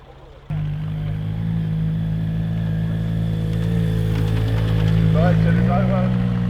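A work tractor at a vintage show starts up and runs steadily with a low, throbbing drone, close by, while people talk over it.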